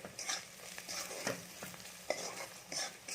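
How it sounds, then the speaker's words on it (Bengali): Spices frying and being stirred in a pan for an egg breakfast dish, a quiet sizzle broken by a few scraping stirs of the spoon, with no talking. "এবার মশলাটাকে আমি একটু ভাজতে দেবো"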